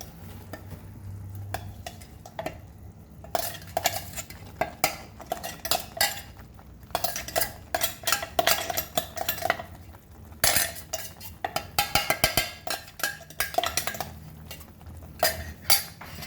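Ground motichoor laddu mixture stirred in a bowl, with repeated scraping and clinking of a utensil against the bowl in uneven bursts, close and moderately loud, with no talk.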